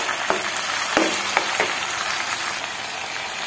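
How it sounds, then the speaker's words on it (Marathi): Fenugreek leaves and garlic with turmeric fry in a pan, giving a loud, steady, close sizzle broken by a few sharp stirring scrapes, with no talking. "आता हे देखील आपण यात छान फ्राय करून घेणार आहोत"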